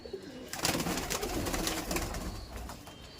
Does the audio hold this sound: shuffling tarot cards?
no